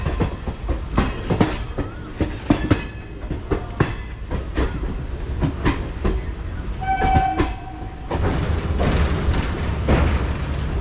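A local train overtakes on the adjacent track beside the Kanchenjunga Express in sleeper class, with repeated clickety-clack wheel thumps, a rising roar as the cars pass close, and a brief tonal horn-like note near the end.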